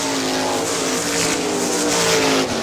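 410 sprint cars race around Hartford Speedway, a loud, sustained engine roar with rising and falling pitch as cars pass close by.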